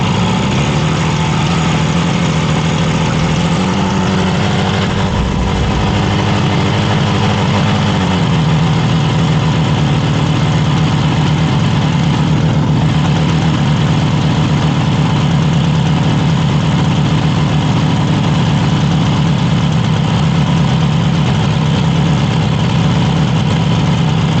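A purple 1967 Yamaha YR1 motorcycle engine idles steadily up close, a loud continuous low rumble with a brief dip and recovery early on, then holding an even throb throughout with no talking.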